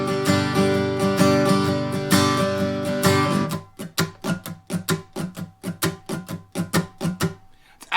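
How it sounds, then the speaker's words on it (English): Acoustic guitar strumming a straight back-and-forth pattern for an intro, with sustained ringing chords at first and then crisp, evenly spaced strokes, close and clear with no talking. "Now the strum pattern is going to be pretty much straight back and forth"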